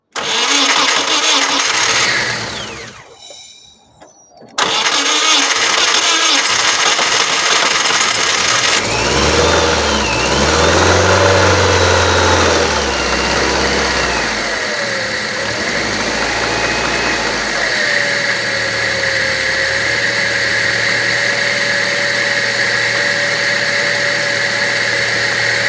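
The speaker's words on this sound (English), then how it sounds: "Once you start the car, do not accelerate, let it run until the fan kicks in." A Fiat Punto 188 1.2 8v engine cranks and catches after a short pause, revs briefly, then settles into a steady idle with a whining pitch that drops and holds.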